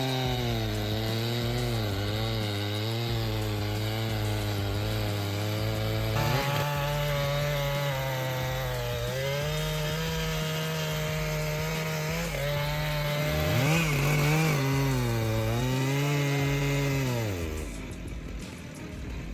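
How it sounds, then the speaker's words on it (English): A Stihl MS-881 professional chainsaw cuts through logs, its engine droning loud and close with the pitch dropping and rising as the chain bites and clears the wood, steady throughout. "This chainsaw is unreal. It just devours logs,"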